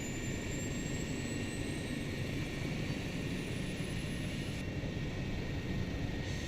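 Loud, unbroken rotor and engine roar fills a helicopter on a flight toward Tallahassee during a road tour. It is a dense, even drone with no voices.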